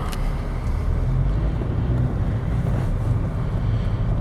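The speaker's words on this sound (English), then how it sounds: "We got the air working, blowing nice and cold." Air conditioning blowing cold inside a 2008 Honda Fit Sport, a steady broadband rush of airflow, loud and close, with no talk.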